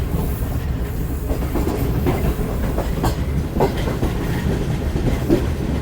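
Shalimar Express train rolling toward Khanewal Junction in Pakistan, a continuous loud rumble with clickety-clack wheel beats and faint squeal, heard from on board.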